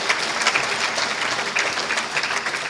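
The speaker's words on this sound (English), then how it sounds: "gee, I didn't know I'd get applause for that" Convention audience at a Maryland state recovery gathering breaks into steady, close applause after a speaker shares a sobriety date, many hands clapping continuously at even loudness.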